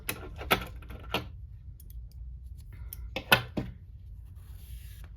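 Scissors snip crochet yarn in a few sharp, quiet cuts spaced out over several seconds, with light handling clicks between them.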